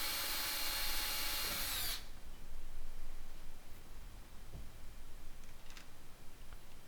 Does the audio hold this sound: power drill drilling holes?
yes